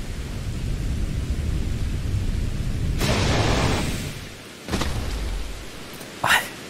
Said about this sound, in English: Also, I realize it's raining.